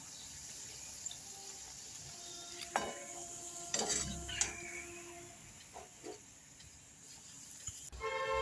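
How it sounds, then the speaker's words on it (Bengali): Luchi puffs in hot oil, a faint steady sizzle with occasional clinks and stirring clatters from the pan, fairly quiet and close. "এইভাবে আমি প্রত্যেকটা লুচি ভেজে নিয়েছিলাম"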